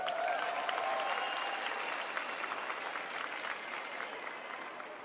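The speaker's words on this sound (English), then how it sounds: "Let's give them another round of applause" Sustained audience applause for beauty pageant contestants at a Miss Universe preliminary competition, a dense, steady wash of many hands clapping that holds loud throughout and eases only slightly toward the end.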